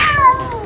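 A cat being bathed lets out one loud, close meow that slides downward in pitch, alone, with faint splashing and handling noise beneath it.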